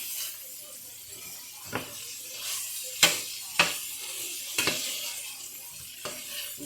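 Food frying in a pan during a home Jamaican dinner, a steady sizzle with several sharp utensil scrapes and knocks against the pan, close up with no talk.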